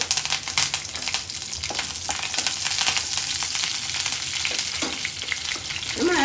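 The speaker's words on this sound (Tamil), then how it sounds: "கடுகு பருப்பு பொரிஞ்சதும் வெறும் ரெண்டு காஞ்ச மிளகா பிச்சு போட்டுக்கோங்க கொஞ்சமாக கருவேப்பிலை போட்டுக்கோங்க" Mustard seeds, dal, torn dried red chillies and curry leaves fry in oil, a dense bright sizzle with crackling pops and occasional stirring scrapes, steady and close throughout.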